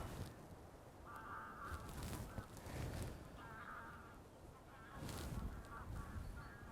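Geese honk at a lake, a few faint, distant bursts of calls over steady wind and background noise.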